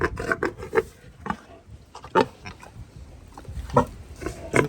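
A big sow shuffles and grunts in a hay-filled pen, giving close snuffling oinks and rustling, scraping movements in short irregular bursts.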